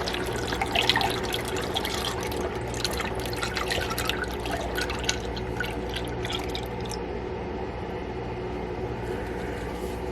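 Elderberry syrup runs through a funnel into a bottle as a steady close trickle, with fast irregular drips that thin out partway and give way to a softer continuous flow.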